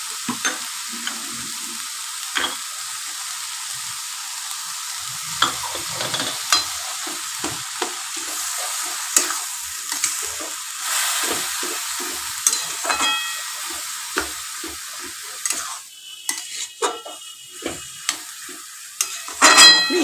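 Coconut fries in a pan after water is added, giving a steady sizzle broken by frequent clinks and scrapes of stirring, close and fairly loud.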